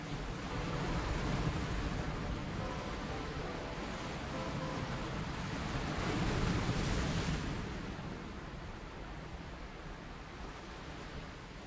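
Steady roar of sea surf and coastal wind on a warm summer shore, broad and fairly loud, swelling around the middle and then easing to a softer wash, with no voices.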